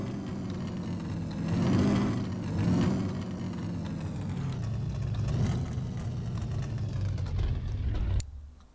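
A V8-swapped Lada Niva engine runs steadily in a garage, a loud low rumble with a couple of gentle swells in revs before it is switched off and cuts out abruptly near the end, with no talk.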